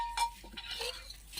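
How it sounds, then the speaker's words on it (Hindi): Dishes being washed by hand, with a few quiet clinks and scrapes of utensils against each other in short, scattered knocks, faint and close, with no talking. "बर्तन माजत है"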